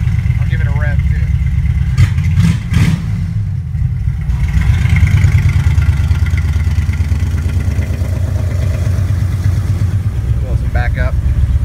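A 1986 Chevrolet El Camino with its electric exhaust cutoffs open rumbles loudly close by, its deep exhaust rising in a couple of revs, while someone talks over the engine.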